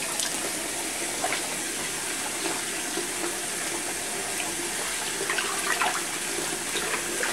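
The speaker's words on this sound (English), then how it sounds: "Running water. If you want to rinse several so it gets quite salty." Tap water runs steadily into a sink while salted cabbage for kimchi is rinsed, a continuous mid-level splashing wash with small bursts of spatter throughout and no voices.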